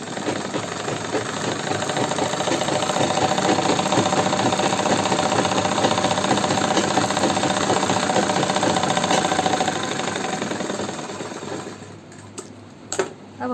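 A sewing machine stitching a Patiala salwar, rapid steady mechanical whirring close by for most of the clip, then slowing and stopping with a few clicks near the end.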